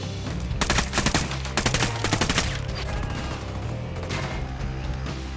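Heavy gunfire erupts in the Ghost Recon Wildlands video game, dense rapid bursts of automatic shots crackling early on, then thinning into scattered loud reports over a steady rumbling game background.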